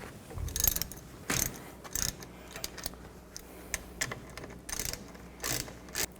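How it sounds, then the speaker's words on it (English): A ratchet with an 18mm socket loosens a bolt on the rear brake bracket of a 1999-07 Chevy Silverado 2500, giving repeated bursts of rapid clicking in short strokes, close and fairly clear. "I'm just going to loosen this top one up."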